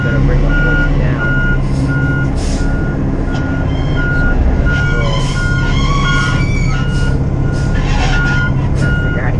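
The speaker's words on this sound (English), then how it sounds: "I need more weight, so I'm going to bring the hoist down." A big dumpster roll-off truck idles loudly with a steady rumble while repeated reversing beeps sound throughout and hydraulic whines rise as the hoist comes down; a voice is faintly heard at times.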